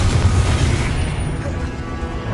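A Confringo spell explosion in the Hogwarts Legacy video game, a single loud, low booming burst that rumbles and then fades over about two seconds.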